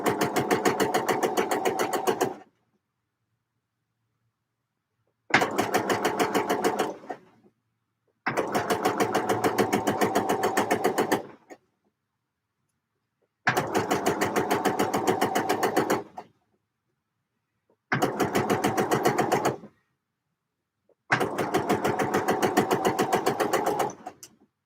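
A home sewing machine stitches pockets on a knit garment in six bursts of rapid, even needle chatter, each a few seconds long, with silent pauses between.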